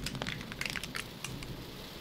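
A tin can is crushed in the horror dating game Sucker for Love, giving a quick run of crackling, crinkling metal crunches with no voices.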